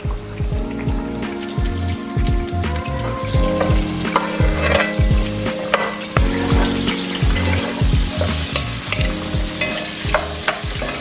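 Chicken katsu cutlets fry in hot oil, a loud steady sizzle and crackle that runs throughout, punctuated by repeated knocks and scrapes of utensils against the pan, with no talking.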